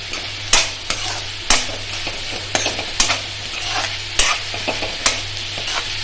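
Onions sizzle in a pan for a Kerala onion thoran while a spatula stirs them, giving a steady frying hiss punctuated by crisp, irregular clinks and scrapes against the metal.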